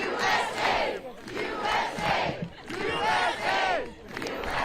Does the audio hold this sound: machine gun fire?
no